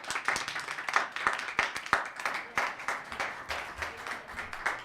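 Applause from the audience at a town council meeting, a dense patter of many clapping hands, fairly close and steady for about five seconds with no voices over it.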